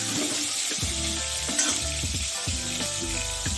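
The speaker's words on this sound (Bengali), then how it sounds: "তার আগে আলুগুলো ভেজে নিই" Potatoes frying in oil crackle and sizzle continuously and close by, a dense bubbling hiss that stays loud and steady throughout the short stretch.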